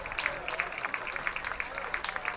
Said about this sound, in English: let's have a round of applause for the two teams that provide us with a terrific championship game